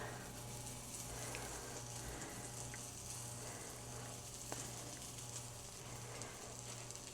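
Pancake batter frying in a scoop of butter on a pan, a steady soft sizzle with faint crackles running throughout, close and even, with no talking.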